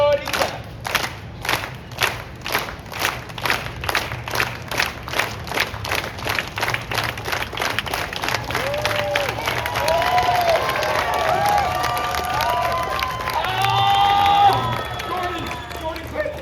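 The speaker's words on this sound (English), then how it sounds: "Everybody clap." Street show audience in Boston at a knife-juggling performance, clapping in a steady rhythm that swells into loud mixed applause and cheering, with a performer's shouts over the crowd.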